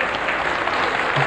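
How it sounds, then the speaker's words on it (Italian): A studio audience applauds warmly, a continuous close burst of many hands clapping at a steady level throughout, with no speech over it. "un bel applauso ai miei colleghi"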